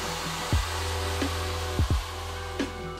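Hair dryer with a diffuser attachment running steadily while drying hair during a home haircut, a continuous whooshing hum with a few brief bumps and shifts as it is moved around.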